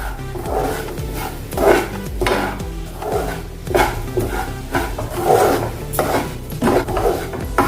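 Fine semolina (suji) stirred while roasting in a pan: repeated gritty scraping and rasping strokes of a spoon against the pan, close and fairly loud, in an uneven rhythm of about one stroke per second.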